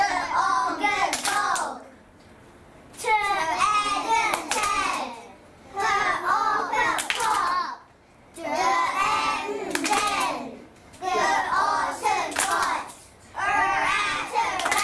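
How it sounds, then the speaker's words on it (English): Young prep-school children clap out word syllables in unison, rapid bursts of claps in several rounds separated by short pauses, with a teacher's voice speaking between rounds. "get your hands ready to stretch it out and clap it"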